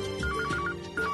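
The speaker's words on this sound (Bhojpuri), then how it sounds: "अरे केकर फोन आ गई" A phone ringtone chirps in quick, repeating electronic tones, steady and moderately loud for about a second.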